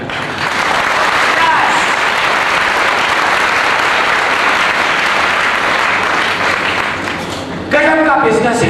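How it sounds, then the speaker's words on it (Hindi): Loud, sustained applause and clapping from a large audience fills the whole stretch, with a brief surge near the end where cheering voices rise over the clapping. "इसीलिए हम लोग इतना ताली बजाते हैं।"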